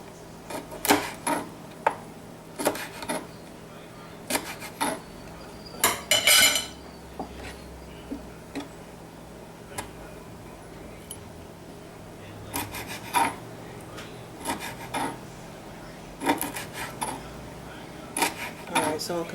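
Chicken feet being cut and cleaned for a Trinidad-style stewed chicken feet dish, giving a run of near knife scrapes, taps and clinks on a board and dishes, in irregular bursts with quiet gaps between.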